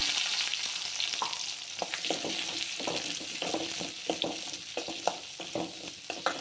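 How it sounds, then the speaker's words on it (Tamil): Fenugreek seeds and small shallots sizzle in hot oil for garlic kuzhambu, a steady crackling fry broken by repeated scraping stirs of a spatula, close and moderately loud with no talking. "வெந்தயம், சின்ன வெங்காயம் போட்டுக்கலாங்க."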